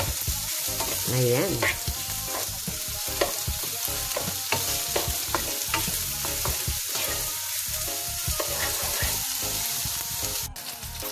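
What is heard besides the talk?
garlic, onion and tomato sautéing for mung bean dish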